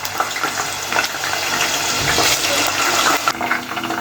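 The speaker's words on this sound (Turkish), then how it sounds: "Ve tamamen kuruyan patateslerimi kızgın yağda kızartıyorum" Dried potato pieces fry in hot oil in a pot, giving a loud, steady broadband sizzle and crackle that swells and settles, close up, with no talking.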